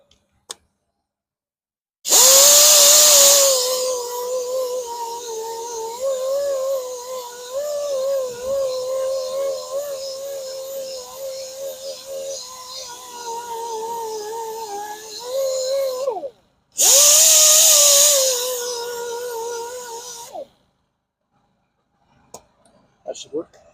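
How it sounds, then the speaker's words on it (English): Angle grinder reshaping a damaged machined wheel rim on a Volvo S60, two loud sustained grinding runs with a bright whine and uneven load changes, separated by a short pause and ending in quiet. "I'm going to hit that with the grinder again real quick."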